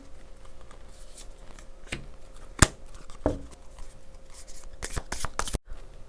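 Tarot cards are shuffled and drawn by hand, giving a few sharp snaps and slaps among soft rustling and a brief riffle of cards near the end, close up with no talking.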